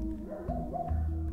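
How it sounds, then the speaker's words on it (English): A dog barks a couple of short, yipping barks nearby indoors, fairly clear with little else around it. "Yeah, that's my dog barking."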